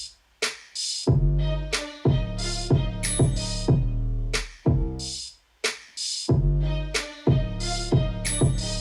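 A beat built from deep booming 808 bass hits and crisp hi-hats, with a plucked pizzicato violin melody bouncing on top, played in a tight, repeating pattern with no voices.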